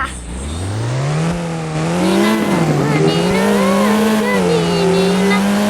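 A silver car drives fast in a video game, its engine holding a sustained droning tone that rises and shifts with acceleration, loud and continuous, with brief tire noise partway through.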